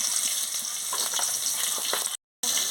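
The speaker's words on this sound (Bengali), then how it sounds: "ভালো করে আলুটাকে লাল লাল করে ভেজে নিচ্ছি অল্প তেল আছে আর একটু তেল দিয়ে দিচ্ছি" Potatoes fry in a little hot oil in a pan, giving a steady, dense crackling sizzle that cuts out briefly near the end.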